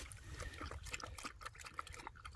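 A dog laps water in quick, irregular splashy slurps, close and fairly quiet, on a hot day outdoors.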